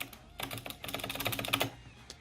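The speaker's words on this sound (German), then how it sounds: "gute mechanische Tastatur" Close, fast typing on a Razer BlackWidow V2 Chroma mechanical keyboard, a dense burst of clacky keystrokes with a few scattered taps trailing off at the end.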